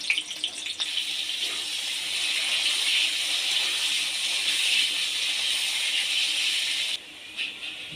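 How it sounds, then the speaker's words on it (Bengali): Cut potato pieces fry in hot oil in a kadai, a loud close sizzling hiss that holds steady for several seconds, drops suddenly near the end and then crackles more softly, with no talk. "এবার ওর মধ্যে কেটে রাখা আলুগুলো ভেজে নেব।"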